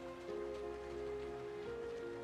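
Early rain falls in a steady, even patter near a desert gorge, with a constant low hum of background music underneath and no voices.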